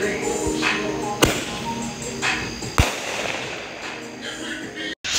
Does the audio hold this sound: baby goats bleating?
no